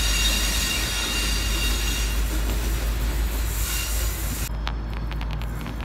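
A Melbourne train rolls along loudly with a constant heavy rumble and wheel squeal near the North Melbourne flyover, the roar easing at the end into clicking rail joints.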